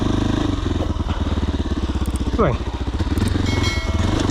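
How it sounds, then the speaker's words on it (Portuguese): A Sherco SE-RS 125 four-stroke motorcycle with a Yamaha engine idles with a steady, rapid, close putter, with a brief rev partway through and a short word spoken over it. "é uma 125 a 4 tempos, motor Yamaha"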